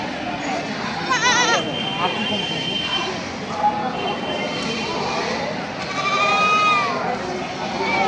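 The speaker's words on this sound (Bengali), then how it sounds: "সব দেখেন কত সুন্দর সুন্দর ছাগল আপনাদের দেখালাম" Goats bleat several times, wavering cries rising above steady crowd noise and people talking nearby.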